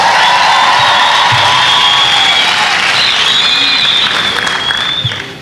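An audience applauds loudly and steadily for the whole stretch, with cheering and a few whoops mixed into the clapping and fading slightly at the end.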